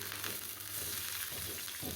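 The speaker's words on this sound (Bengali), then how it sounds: "পেঁয়াজটা ভাজা ভাজা করতে হবে মানে" Onions frying in oil in a frying pan, a soft but steady sizzle with faint crackles, continuous and fairly quiet, no voices.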